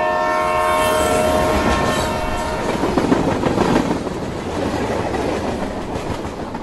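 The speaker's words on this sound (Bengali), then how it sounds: "হুইসলের বিকট শব্দ করে হাওড়াগামী ট্রেন সুরপতিদের ট্রেনের পাশ দিয়ে বেরিয়ে গেল।" A passing train sounds a long, sustained whistle, then roars by with dense rattling rumble that fades slightly, staged as a radio drama effect with no voices.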